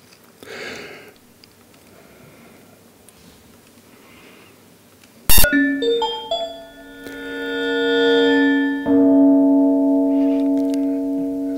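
Opening of an electronic piece: after faint sounds, a sharp synthesized strike launches sustained gong-like FM tones whose ringing partials enter one by one and swell, then a second attack refreshes the shimmering metallic chord.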